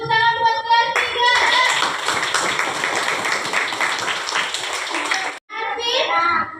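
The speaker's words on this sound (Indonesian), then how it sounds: "tepuk tangan buat kelas 3" Children in a third-grade class clap together in a dense, lively burst of several seconds, framed by the high voices of kids speaking just before and after.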